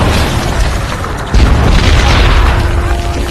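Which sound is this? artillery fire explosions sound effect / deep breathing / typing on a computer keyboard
artillery fire explosions sound effect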